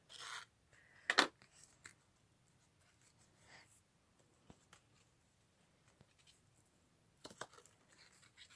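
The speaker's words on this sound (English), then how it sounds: "use your scissors or pokey tool just to put it through." A pair of scissors or a small poking tool pushes through papercraft card with a few quiet scratchy scrapes and taps, one sharper crinkle among them, in an otherwise hushed room.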